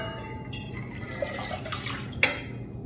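Water is poured into a cooking pot to prepare quinoa, a faint trickling splash with a sharp metallic clink near the end, heard close in a quiet kitchen.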